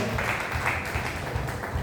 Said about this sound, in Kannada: ಕೈ ಚಪ್ಪಾಳೆಯೊಂದಿಗೆ